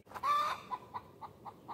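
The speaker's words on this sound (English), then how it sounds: "I can hear Charles's rooster crowing" Rooster crowing from a neighbouring property, heard as one drawn-out call followed by a string of fainter, evenly spaced clucks or calls over low background noise.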